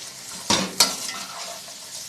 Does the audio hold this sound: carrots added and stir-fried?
yes